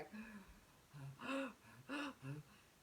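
A person demonstrating fast breathing, short voiced gasping breaths in a quick irregular rhythm, close but quiet.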